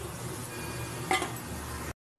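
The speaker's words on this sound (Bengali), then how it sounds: "মশলা দিয়েও এবার বেশ কিছুক্ষণ ধরে একটু নাড়াচাড়া করে নেবো।" Spices and potatoes stir-fry in a pan, a steady close sizzle running throughout with a brief louder scrape or clink of the spoon near the middle, no voices.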